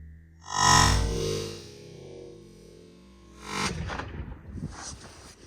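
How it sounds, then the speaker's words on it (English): Heavy .454 Casull revolver shots fired at a target 75 yards downrange, loud sharp reports with echo, one blast early and another burst later, no talk. "We back up to 75 yards on the money. Take a 3-shot group."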